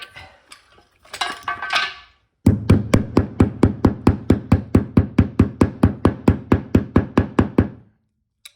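After some brief rustling, a knocking stick taps a plasterboard wall fixing in place: a steady series of about two dozen sharp knocks at an even rhythm, close by, then stops.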